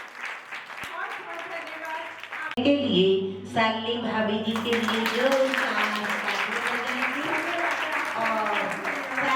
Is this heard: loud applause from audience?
yes